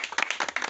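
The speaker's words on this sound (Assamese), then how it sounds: "আৰু অলপমান হাত চাপৰি মাৰি দিবা সকলোৱে" A short burst of people clapping hands at a small gathering, a quick flurry of sharp claps lasting under a second, moderately near.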